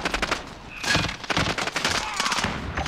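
FAMAS assault rifle fire in the Modern Warfare video game, a run of rapid, loud bursts cracking out back to back with short gaps, a voice briefly mixed in underneath.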